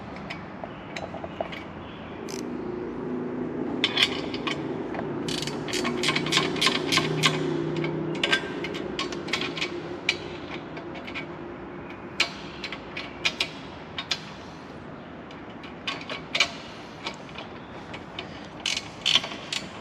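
A ratchet wrench tightens the bolts on exposed crossbars of Ford beach bars. It makes steady runs of sharp, close mechanical clicks over a low hum, with a few pauses and louder isolated clicks toward the end.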